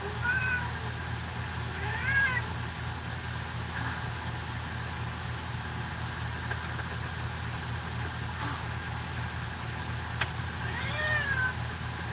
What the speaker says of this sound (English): Can I see the cat?